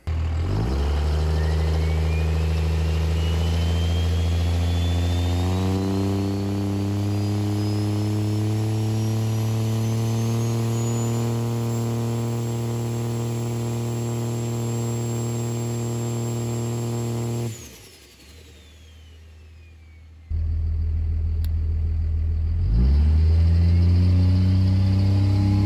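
A Cummins diesel truck engine on launch control holds a loud, steady high rev for many seconds. The revs then cut away sharply, and the engine roars back up and stays loud.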